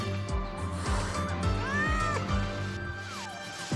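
A frightened stray cat in a video game meows repeatedly, several rising and falling cries over a steady background music bed, close and clear.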